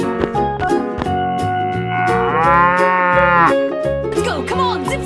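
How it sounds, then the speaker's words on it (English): Cow mooing in an escape room challenge game, a long loud low moo over bouncy background music. "Cow."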